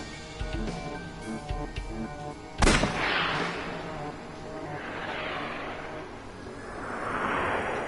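A single sharp gunshot rings out in the detective game Ai: The Somnium Files, loud and sudden after some quieter clicks, followed by a fading, swirling reverberant wash.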